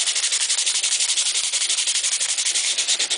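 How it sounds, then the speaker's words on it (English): LP cowbell being sanded by hand with 100 grit sandpaper, producing a loud, steady, close-up scratchy rubbing with quick back-and-forth strokes throughout. "I'm using 100 grit sandpaper and 150 grit right now."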